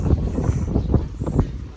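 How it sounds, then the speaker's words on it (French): Gusty wind buffets the microphone outdoors on the island of Lombok, producing loud, rumbling low-end bursts with no clear speech. "Bon, désolé s'il y a du vent, mais Lombok c'est comme ça."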